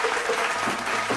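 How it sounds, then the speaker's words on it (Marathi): An audience at a newspaper's first anniversary function applauds an advocate being honoured, with steady, moderately loud clapping throughout the short burst. "जोरदार टाळ्या पाहिजे"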